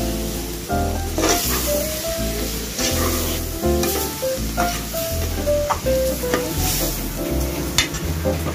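Ginger, garlic, red chili powder and turmeric fry in a pan with a steady sizzle. Repeated scraping stir strokes sound close by, and a faint melodic tone runs underneath.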